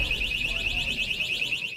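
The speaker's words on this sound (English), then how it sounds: "Alarms blaring as travelers pack the tarmac." Alarms blare at Kansas City International airport while travelers crowd the tarmac: a loud, continuous electronic tone that warbles rapidly and evenly, over a low background rumble.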